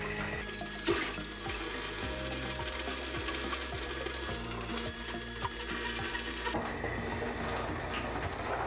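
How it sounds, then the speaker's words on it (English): A toothbrush scrubs a canister filter impeller under running water, giving a quiet, steady rasping and clicking over the sound of water. "We'll take a toothbrush and some water. Just give it a little scrub."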